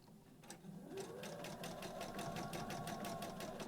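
A sewing machine stitches the side seam of a fabric storage caddy in a fast, even run of needle strokes, close and steady for several seconds after a brief start.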